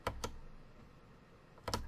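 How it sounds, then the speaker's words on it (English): Mechanical keyboard key presses during a video game: two quick sharp clicks, a pause over quiet game sound, then another close pair of clicks. "See, here's my button press. I know you can hear that. Mechanical keyboard."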